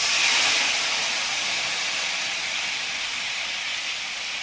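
Tamarind water poured onto fish frying in hot oil, a loud, steady sizzling hiss that bursts up at once and then holds, slowly easing, with no voices.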